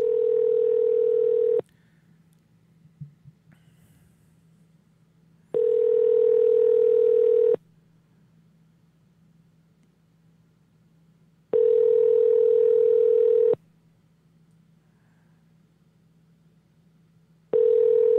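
Repeating telephone ringback tone on a call: about two-second steady tones separated by four-second silences, loud and clean over a faint hum, with no talking.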